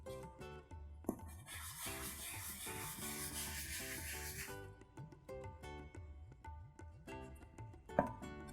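A Scotch-Brite pad scrubs wet Bar Keepers Friend over a rusty table saw top, with soft repeated back-and-forth rubbing strokes, a harsher hissing scour in the middle, and a couple of knocks, all faint and close.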